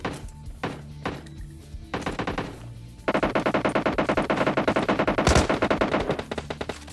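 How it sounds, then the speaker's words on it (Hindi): PUBG Lite gunfire: a few scattered single shots, then a sustained rapid burst of automatic fire, loud and close. "देखो आपको बिल्कुल सही गनशॉट की आवाज आ रही होगी"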